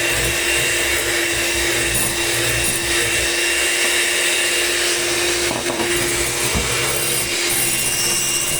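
An electric mixer beats cake batter of egg whites and yolks, producing a loud, constant whirring drone with a low hum that runs unbroken from start to finish.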